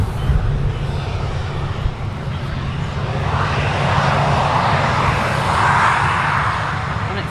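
An Air France airliner at Manchester Airport, its jet engines giving a loud, steady roar that swells in the second half, with people chatting over it.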